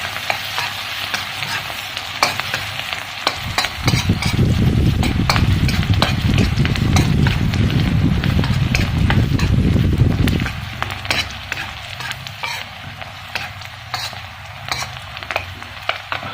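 Greens are stir-fried in hot oil, bursting into a loud, dense sizzle and crackle with scraping stirs for several seconds before settling back to softer frying and clinks.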